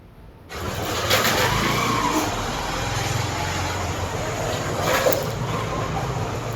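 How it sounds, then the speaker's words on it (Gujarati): A small 98 cc motorcycle engine runs steadily with a low rumbling drone, fairly close, under a wash of broadband noise and a few louder surges. "અઠ્ઠાણું સીસીનું બાઇક ખરું"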